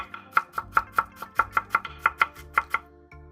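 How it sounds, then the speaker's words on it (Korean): A knife finely chopping carrot on a cutting board gives about a dozen crisp, evenly spaced knocks at close range, with nothing else in the background. "당근 4분의 1개를 잘게 썰어주세요."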